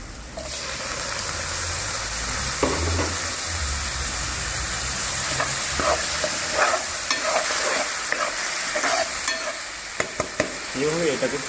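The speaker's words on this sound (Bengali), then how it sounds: "এইভাবে এটাকে 3 থেকে 5 মিনিট মতো সাঁতলে নেব, যতক্ষণে টমেটোর জল ছেড়ে দিচ্ছে" Tomatoes and masala sauté in a pan with a steady, loud sizzle throughout, broken by occasional stirring scrapes and clicks, particularly toward the end.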